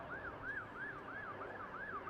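An emergency vehicle siren wails in London, a steady rising and falling tone repeating about six times, faint and distant over a low background hum.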